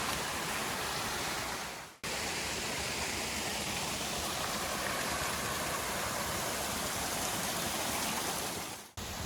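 A hill stream below a waterfall in Balangoda, Sri Lanka, flowing toward Samanalawewa makes a steady, dense rushing wash that stays even throughout, with no voices.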